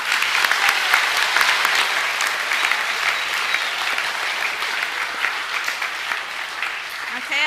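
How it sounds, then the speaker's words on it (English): A school assembly audience gives steady, dense applause, loud and close, continuing evenly with no voices standing out. "Please give Riley and Kieran another round of applause."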